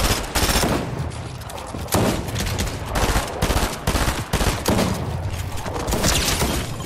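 Loud, dense gunfire in the video game Fortnite, rapid overlapping bursts and sharp cracks filling the whole stretch almost without pause, close and intense with no talking.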